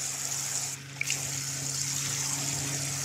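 Water trickles and splashes steadily at low volume from an off-grid outdoor shower in the woods fed by a homemade heat exchanger, a soft continuous dribble with a faint pump-like hum beneath it.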